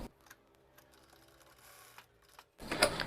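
A sewing machine stitching trouser fabric, with faint, intermittent mechanical clicking and whirring at first, then a short louder burst of stitching near the end, heard close with no talk.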